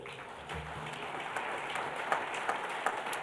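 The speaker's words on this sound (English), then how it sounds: "I think we should all give them a very big round of applause." Audience applause at a journalism awards ceremony honouring investigative reporters, a steady wash of clapping from a large crowd that builds slightly and holds at moderate volume, with a few sharper claps standing out.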